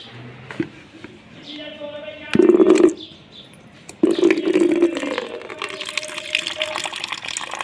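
Water pours into a container in two short bursts, with quieter handling sounds and a voice talking between them.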